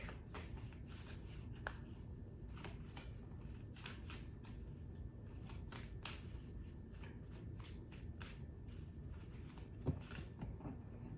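A deck of oracle cards is shuffled steadily for about eleven seconds, a soft continuous papery riffle with brisk flicks and slaps, close and moderately quiet, with no voices.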